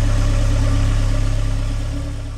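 A newly installed 2.0 turbo car engine runs on its first start, a loud, steady idle with an even low-pitched throb that eases slightly toward the end.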